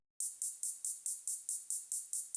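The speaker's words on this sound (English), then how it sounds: "One short hi-hat, it sounds like this." A short, crisp hi-hat from Logic's stock sounds ticks in a steady rapid pulse of about eleven bright, clipped hits, alone and fairly quiet.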